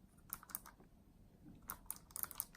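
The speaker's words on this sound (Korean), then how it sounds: "기계식 키보드라는 느낌은 확실히 나는데 막 청축이라는 느낌이 막 나진 않는 것 같아요." Typing on a thin Anidees portable mechanical keyboard with blue switches: sparse, irregular keystroke clicks in small bursts, quiet and close, with no voices.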